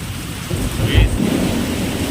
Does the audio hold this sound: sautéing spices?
no